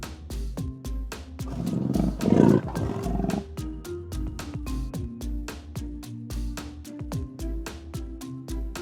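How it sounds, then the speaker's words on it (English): A leopard gives a rasping roar, a short loud burst that rises over a steady rhythmic music beat and then fades back under the repeating backing track. "Leopard."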